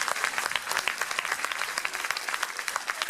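An audience at a martial arts gala applauds the technical crew, producing steady, dense clapping from a sizable crowd that fills the room at a moderately loud level throughout, with no speech over it.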